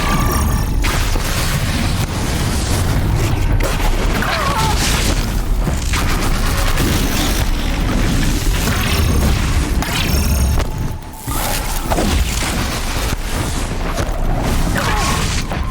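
Mine launcher explosions in the video game Horizon Zero Dawn, a dense, continuous barrage of loud booms, crashes and mechanical clatter that barely lets up, with a brief dip near the end.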